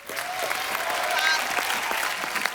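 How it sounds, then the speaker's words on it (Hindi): Steady applause from a TV comedy show studio audience fills the clip, with voices faintly audible beneath the clapping. "और मनीषा जी के लिए और जोरदार तालियां"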